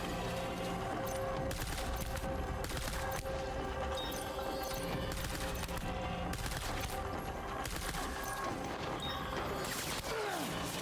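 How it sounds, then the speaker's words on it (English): An enemy fires a mounted gun in Death Stranding Director's Cut: repeated bursts of sharp shots crackle across the scene in uneven clusters, loud and close, with metallic mechanical clatter between volleys. "he's trying to shoot at me from that fucking gun"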